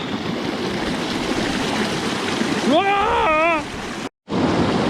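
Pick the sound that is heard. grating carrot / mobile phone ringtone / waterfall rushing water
waterfall rushing water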